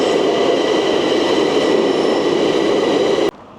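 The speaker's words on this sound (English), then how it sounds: "It's coming, my train!" A metro train rumbles steadily into a Bucharest station, a loud continuous roar of wheels and motors with rail clatter that cuts off abruptly near the end.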